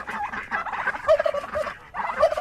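Several turkeys gobble in rapid, warbling bursts on a farm at feeding time, fairly close, with a short pause before another round of gobbling.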